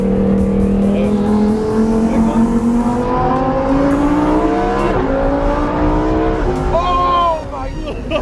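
Lamborghini Huracán Performante engine revving hard, a loud close roar with rising and falling pitch sweeps and sharp blips, continuous throughout before easing near the end.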